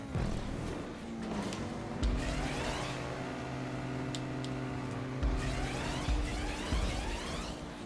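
Car engine in Grand Theft Auto while driving, a sustained revving drone with shifting pitch and occasional louder surges, close and continuous with no talk over it.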